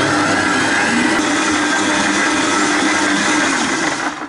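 A stand mixer fitted with a dough hook kneads bread dough at speed 2, its motor producing a loud, constant whirring drone that runs without a break before easing slightly at the end, with no voices.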